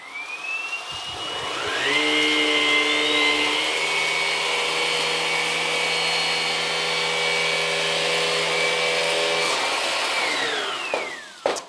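A Vax ONEPWR Blade 3 cordless vacuum with its brush bar switched to boost mode spins up to a loud, steady high-pitched motor whine with a hum beneath, runs evenly for about ten seconds, then winds down.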